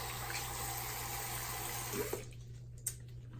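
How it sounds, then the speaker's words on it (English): A steady stream of tap water rinses a salon tool after Barbicide disinfection, running continuously and fairly close, then thinning out with a couple of small clinks near the end. "So we're going to rinse this item, rinse it thoroughly."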